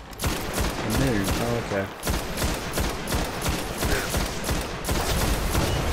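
Rapid gunfire from a PS4 shooter game, dense bursts of shots running steadily throughout, with someone talking over the shooting.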